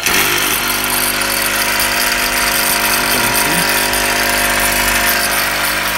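A 1.5 hp electric motor runs at a steady close-up hum with a constant tonal whine, with no breaks or speech.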